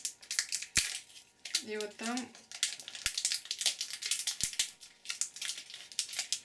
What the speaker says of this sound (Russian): открываю вот пакетик